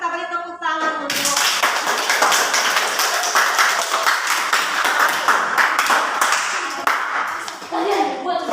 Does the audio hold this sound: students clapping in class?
yes